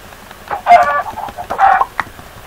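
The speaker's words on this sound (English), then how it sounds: "I must kill the chicken." A chicken in the video game Minecraft gives two short bursts of clucking, close and clear, followed by a brief squawk, with quiet gaps between the sounds.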